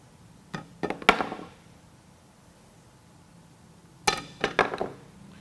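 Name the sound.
screwdriver dropped onto repaired wheel samples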